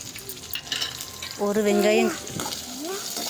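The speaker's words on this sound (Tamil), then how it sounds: "இப்போது நம்ம வெட்டி வச்ச வெங்காயத்தை உள்ளே போட்டுடலாம்." Chopped large onions frying in a pan for a potato lunch dish, a steady sizzle with stirring, joined midway by a brief voice-like tone.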